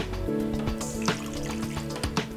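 Soy sauce streams into a roasting pan of apricot chicken for a Rosh Hashanah meal, a close liquid pour with gurgling trickles and drips over a faint steady tone.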